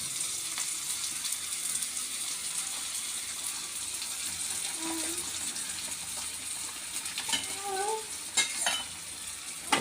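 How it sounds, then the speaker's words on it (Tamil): Onions and curry leaves fry in oil for a dry fish curry, a steady close sizzle running throughout with faint stirring scrapes near the end. "வெங்காயம் வந்து நல்லா பொன்னிறமாக வதங்கிட்டு கருவேப்பிலை சேர்த்துக்கிடுவோம்"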